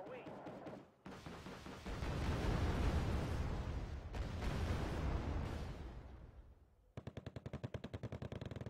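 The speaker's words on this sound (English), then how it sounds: "We'll also bring some artillery to suppress that wood." Heavy artillery and gunfire in Wargame Red Dragon, sustained roaring barrages with deep rumbling blasts, then a sharp rapid burst of automatic fire at the end, loud and dense.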